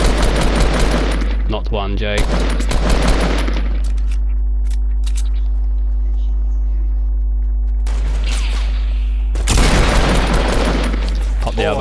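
Bursts of rapid gunfire in Fortnite crackle in loud clusters at the start and end, separated by a quieter stretch of low hum, with a voice speaking briefly over the shooting.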